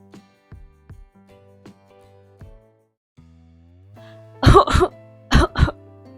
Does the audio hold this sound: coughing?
yes